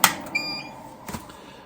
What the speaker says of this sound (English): you'll notice that both these LEDs flash temporarily and you'll hear that alarm sound